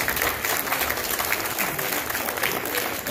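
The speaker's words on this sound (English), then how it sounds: "Give yourselves a round of applause." An audience at a live church service claps in steady, sustained applause, moderately loud and continuous with crowd murmur mixed in.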